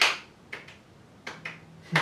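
A person claps sharply by hand in imitation of a clap from a Dracula film, a few crisp, close claps in quick heartbeat-like pairs with quiet gaps between them.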